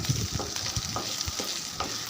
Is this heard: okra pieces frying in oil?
yes